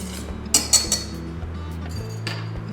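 Quick metallic clinks and scraping of a whisk in a bowl, mixing salt and nutmeg into buckwheat flour, a few sharp taps near the start, then softer stirring, close up over a steady low hum, no talking.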